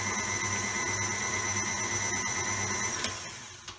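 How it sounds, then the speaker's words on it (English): An electric mixer beats cream cheese gently for cheesecake, a steady close motor whir with a whining tone that holds for a few seconds, then winds down and stops near the end. "beating cream cheese, not to overbeat it. So I'll go a bit gently to start with."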